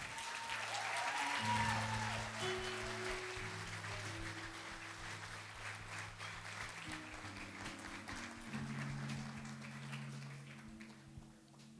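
A church congregation applauds during a Protestant service, a steady, moderately distant clapping that runs for about twelve seconds while sustained organ or keyboard tones play underneath.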